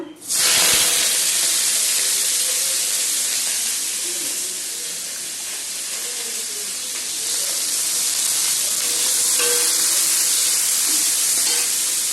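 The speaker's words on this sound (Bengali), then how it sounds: "উচ্ছেগুলো ধুয়ে নিলাম, ধুয়ে এবার কড়াইতে দিয়ে দেবো। তেল গরম হয়ে গেছে" Bitter gourd hits hot oil in a wok with a sharp burst, then a loud, continuous sizzle and hiss fills the whole stretch.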